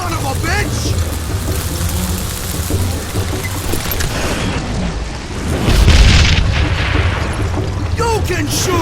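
Thrown dynamite in the video game Call of Juarez Gunslinger goes off with a deep booming blast midway, rumbling over a busy backdrop of game sound effects.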